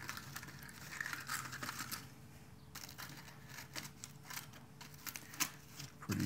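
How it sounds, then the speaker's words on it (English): Heat-treat foil wrapping being crumpled and broken apart by hand to free a machined valve tool, a faint, continuous crinkling and crackling with scattered sharper tears. "Let's see if we can break the foil up here and find our part."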